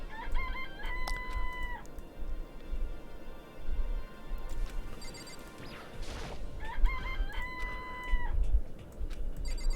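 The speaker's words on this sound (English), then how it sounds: "It's a chicken. It really is, right?" A chicken in the Danganronpa video game clucks and crows in two repeated bursts, clear and close, over a low rumbling game background with no talk.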